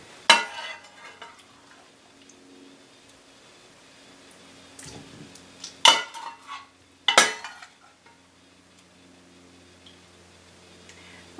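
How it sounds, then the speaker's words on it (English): Roasted vegetables scooped out of a roasting pan and sauce dumped into a pot: a few sharp metallic scrapes and clanks of a utensil against cookware, spaced apart over near-quiet, close by and without talk. "Now I got to scoop all these vegetables out and then dump the sauce that's in the bottom"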